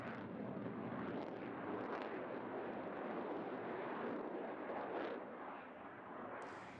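An F/A-18 E/F Super Hornet jet roars during an air display while being pulled onto its back from 3,500 feet, a broad, distant rushing thunder that stays fairly steady and faint.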